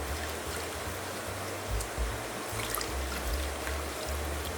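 Running tap water rinses glass canning jars in a home kitchen during tomato sauce preparation, a steady, fairly quiet splash and flow with light clinks and no voices.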